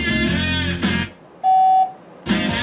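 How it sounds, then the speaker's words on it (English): Original AM radio in a 1970 Chevelle SS gives a single clean, steady electronic beep of about half a second, heard alone in a quiet gap between stretches of speech. "All right, let it beep."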